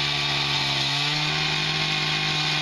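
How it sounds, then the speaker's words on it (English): A rented cutoff saw grinds through fire pit cap pieces, probably stone or block, in a loud, steady, high-pitched whine that holds without pause from start to finish. "We're using a cutoff saw that you can rent from your local"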